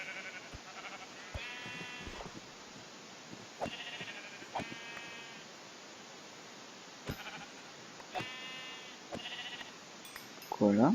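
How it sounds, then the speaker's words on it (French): Sheep in Minecraft 1.9 bleat in short, separate bursts, about half a dozen calls spread over quiet background hiss, fairly soft and with no talking. "on a plein de moutons"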